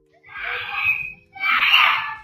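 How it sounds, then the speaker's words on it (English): A boy screams in two long, loud, strained bursts with a short gap between them, captured on a neighbor's amateur recording amid faint background noise. "Video from a neighbor captured his screams."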